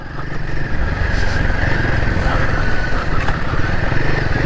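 Royal Enfield Himalayan 450 motorcycle engine running on UK trail riding, a steady loud drone held close throughout with slight rises in pitch, engine and wind noise filling the whole stretch without talk.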